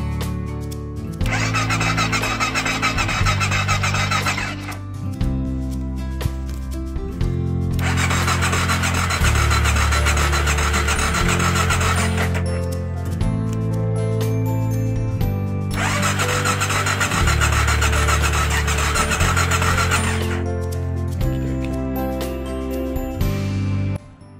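A BMW F650 Funduro motorcycle engine cranks over on the starter in three long bursts of several seconds each, with steady rhythmic churning and short pauses between, close and loud, failing to fire.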